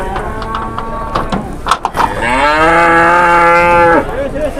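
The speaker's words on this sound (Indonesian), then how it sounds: "Sapi 1 tonnya" A one-ton cow at a cattle market lets out a loud, close, drawn-out moo lasting about two seconds, after brief bumps and clatter of livestock handling, with faint background murmur around it.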